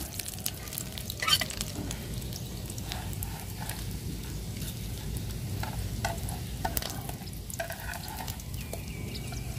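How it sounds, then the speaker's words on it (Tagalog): Continuous crackling sizzle of butani beans frying in hot oil, close up, with occasional scrapes of stirring. "Prito muna tayo ngayon."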